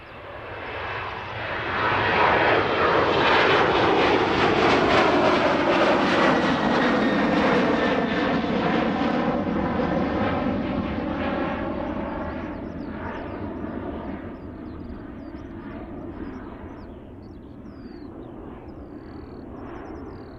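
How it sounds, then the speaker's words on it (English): A Ryanair jet taking off from Bristol Airport for Faro builds into a loud, sustained engine roar, then its pitch drops and it gradually recedes as it climbs away. "Nice late rotation there from that Ryanair heading off to Faro."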